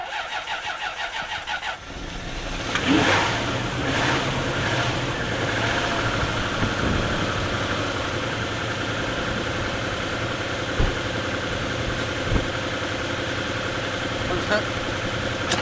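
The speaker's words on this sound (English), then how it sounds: "I think that's even started on more than half of its cylinders by some miracle." A V8 donor car engine cranks and catches, then settles into a rough, uneven idle that suggests it is not firing on every cylinder, heard up close with occasional knocks.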